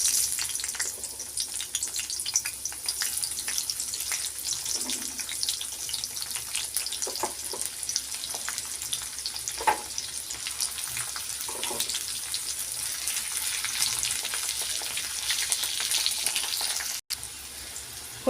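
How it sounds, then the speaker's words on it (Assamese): Cauliflower pieces fry in hot oil in a kadai with a continuous crackling sizzle, dotted with brief sharper pops and soft stirring noises, heard close by with no speech. "এতিয়া ফুলকবিকেইডোখৰ মই প্ৰথমতে আগতে ফ্ৰাই কৰি ল'ম।"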